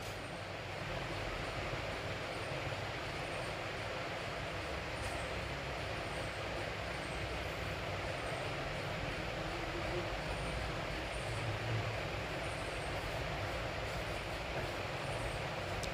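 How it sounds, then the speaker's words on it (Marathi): Automatic car wash machine working on a Tata Tigor XZ Plus iCNG car: a loud, unbroken mechanical rumble mixed with hissing spray that holds steady throughout, with no voices. "ऑटोमॅटिक मशीनद्वारे गाडीची वॉशिंग चालू आहे."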